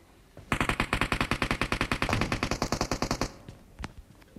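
Rapid automatic gunfire in a video game, a sustained burst of evenly spaced loud shots lasting about three seconds, followed by a few scattered thuds and quieter game sounds.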